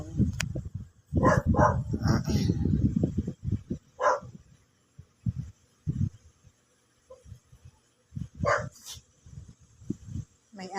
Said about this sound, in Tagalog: May aso na naman, may background na naman title ng aso.